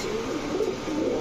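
Young Sobji racer pigeons coo in a soft, rolling low murmur that swells and fades in a few pulses, quiet and close, with no voices.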